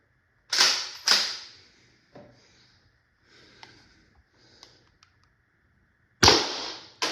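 An Umarex T4e HDX 68 CO2 air pistol in its 7.5-joule version with a 90 g CO2 cartridge fires four sharp, loud cracks, two in quick succession, then a pause with faint handling noises, then two more shots close together.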